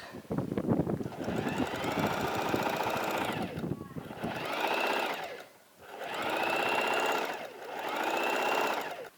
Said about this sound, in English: I'm going to sew through this, the mark that I put with my chalk.